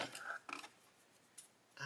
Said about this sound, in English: what I may need to do is get my scissors